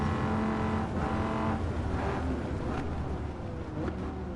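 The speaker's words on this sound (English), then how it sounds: "I think that was a Charger Hellcat." A Dodge Charger Hellcat passes outside a house, its engine a steady, loud rumble with a rising and falling pitch as it goes by, running throughout.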